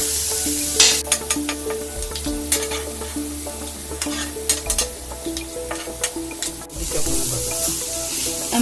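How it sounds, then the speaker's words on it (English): Butter sizzles on a hot tawa beside grilled prawns, a steady close frying hiss with scattered pops and scraping taps of a utensil throughout. "I'm putting butter on the tawa."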